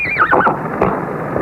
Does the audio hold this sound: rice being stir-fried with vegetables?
no